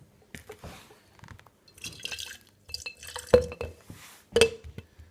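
Warm water trickles and drips into a container of homemade leather edge sealer, with several distinct splashes and clinks against the vessel, fairly close and moderately loud, no talking.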